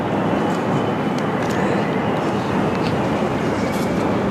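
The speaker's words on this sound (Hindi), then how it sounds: "रेलवे ट्रेन क्रॉस हो गया आपके देखते" A railway train passes close by near Agra Fort, a steady broadband roar and rumble of wheels and wagons filling the whole stretch at constant loudness.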